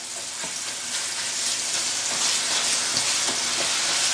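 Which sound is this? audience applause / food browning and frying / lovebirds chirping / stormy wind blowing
food browning and frying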